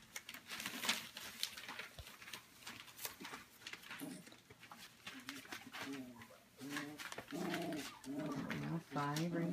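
Four-week-old Goldendoodle puppies wrestle nearby, giving out soft whimpers, yips and cooing squeals in bursts that grow busier toward the end, over light scuffling and a voice talking.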